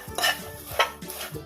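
Cheese popcorn being tossed and mixed in a large bowl at home, giving several soft rustling, scraping sweeps with light clinks, close and fairly quiet, with no talking.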